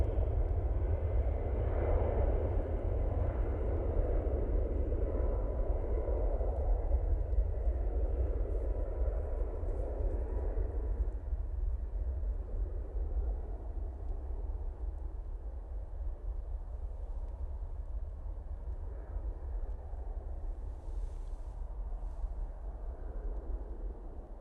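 A TUI airliner passes at an airport, a steady broadband jet roar with low rumble that swells in the first half and slowly fades, continuous for the whole stretch with no talking.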